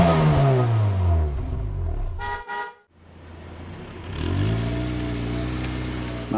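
A Mazda Miata accelerates with its engine revving upward, drops away briefly to near quiet, then comes back with another rising rev, fairly loud and close, with no talking.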